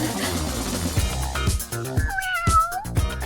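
A cat meows repeatedly in short, close cries with rising and falling pitch, several distinct calls spaced about half a second apart.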